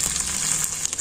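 Ginger, garlic, pepper, fennel and cumin paste frying in oil with cooked onion and tomato for a chicken gravy, giving a steady close sizzle with no talk.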